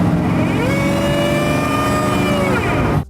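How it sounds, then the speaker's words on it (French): A Mercedes 540K with its supercharged engine revving hard, a loud sustained rising whine and roar layered with steady harmonic tones, holding for about three seconds before cutting off abruptly, with no voices. "un compresseur mécanique se déclenchait et le moteur se mettait littéralement à hurler, produisant un son aigu et strident"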